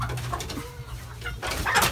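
Broiler chickens, poorly fed for fifty days and now being weighed, give a few soft low clucks nearby amid faint shuffling.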